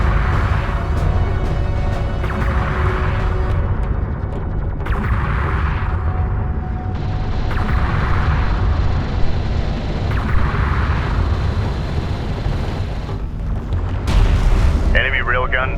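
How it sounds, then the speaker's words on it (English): Gunfire and explosions hit a sensors post during a battle in the game Homeworld: Deserts of Kharak, with a steady rumble of repeated booms and shots under music and a spoken voice. "The sensors post is under fire."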